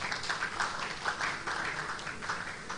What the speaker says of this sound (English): we should all give ourselves a round of applause for that